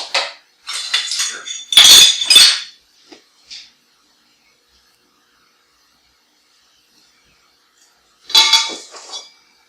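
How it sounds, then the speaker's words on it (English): Two cups of flour are measured and added to a mixing bowl for homemade peanut butter cookies, with a few clinks and scrapes of utensils against the bowl, a bright clattery burst near the start and a short clatter again near the end, separated by silence. "Let's start with 2 cups of flour."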